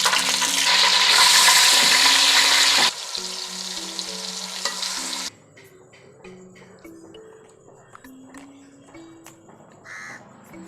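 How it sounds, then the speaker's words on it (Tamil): Curry leaves dropped into hot oil for a chicken dish crackle and sizzle loudly at first, then the hiss settles and thins out over the following seconds, close up with no talking. "கருவேப்பிலை போட்டுக்கலாம் முதல்ல"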